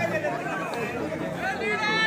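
Spectators murmur and chatter steadily at a kabaddi semifinal match, a dense, close crowd babble with no single voice standing out.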